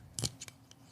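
A beer can cracks open with a sharp metallic crack followed by a brief fizzing hiss, then a couple of softer clicks, close and alone in a quiet room.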